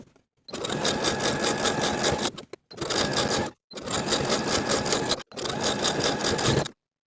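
A sewing machine runs a triple zigzag stitch along the top edge of elastic on a scrap-fabric bralette, heard as four close, loud runs of rapid rhythmic stitching with brief stops between them.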